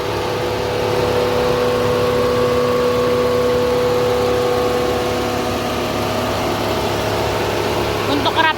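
Mercedes-Benz C200 engine idling with the hood open, a steady continuous hum with a faint whine, close and even throughout.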